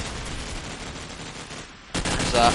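Rapid automatic AK rifle fire in a Counter-Strike match, a dense sustained burst of shots that drops off briefly and then resumes louder.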